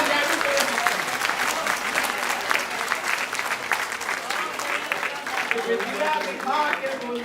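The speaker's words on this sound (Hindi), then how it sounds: "तालियां बढ़िया" An audience at a Hindi comedy poetry gathering breaks into sustained, dense applause, many hands clapping steadily at moderate distance, with a voice speaking briefly over it.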